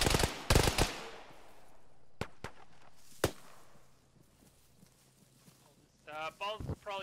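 Gunfire in the military simulation game Arma during a ShackTac squad operation, a few sharp loud shots up front and scattered cracks after, followed by radio-style voices talking at the end.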